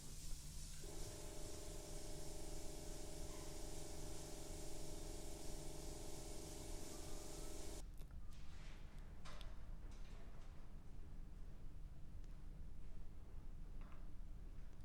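An airbrush sprays transparent Auto Air Colors 4200 series paint, giving a steady close hiss for about eight seconds before it cuts off and leaves only faint scattered clicks.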